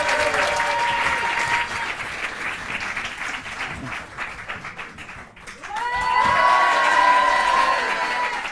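A theatre audience at a French televised comedy show bursts into applause, with dense clapping and some cheering that dips midway and then swells again loudly.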